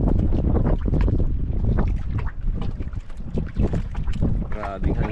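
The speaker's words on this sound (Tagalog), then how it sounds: "Grabing hangina, hindi pa rin nagbabago mga idol" Strong, gusty wind buffets the microphone outdoors in a loud, continuous roar that swells and dips, with a brief voice-like tone near the end.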